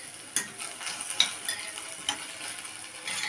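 Chopped tomatoes sizzle softly in a pan while a utensil stirs and scrapes them in short, irregular strokes, with no talking.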